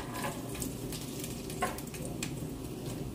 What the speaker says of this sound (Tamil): இப்போ அடுத்த டிசைன் அப்படம் பொரிக்கிறேன்